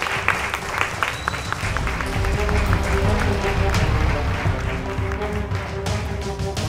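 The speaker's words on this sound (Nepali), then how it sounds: "हामी ठुलो ताली बजाउँ है त" Audience applause fills the hall at the grand finale of the Voice of Glory Season 2 singing contest: steady, dense clapping from a large crowd that holds for the whole stretch, with a voice faintly over it.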